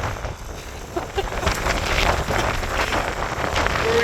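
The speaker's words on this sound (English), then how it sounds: "Yeah, it's windy today." Wind gusts outdoors beside a camper van fitted with a wind turbine, buffeting the microphone in uneven rumbling bursts that rise and fall throughout.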